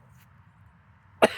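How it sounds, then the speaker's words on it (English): A single sharp cough breaks out near the end after a quiet stretch with a faint low hum. "I hope this cough goes away soon."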